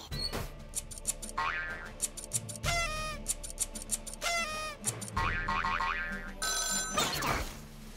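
A red telephone rings in the rhythm game Headbangers Rhythm Royale, with repeated bright bell-like rings and boing-style electronic tones bursting over game music, loud and rhythmic across the whole stretch.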